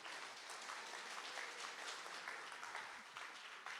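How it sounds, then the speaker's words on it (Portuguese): A church congregation claps hard and steadily, a dense, even roar of hands lasting the whole stretch, with faint voices mixed in beneath. "Bate as palmas bem forte para Jesus."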